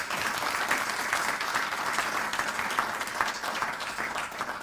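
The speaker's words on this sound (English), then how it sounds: "Colleagues, another round of applause." Audience at a university professorial inaugural lecture in a Faculty of Science applauds, a dense, steady wash of many hands clapping that holds at an even level throughout, with no speech.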